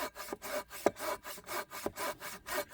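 A hand saw cutting through wood in steady back-and-forth strokes, a rhythmic rasping about eight strokes in under three seconds, close and fairly quiet, with no talking.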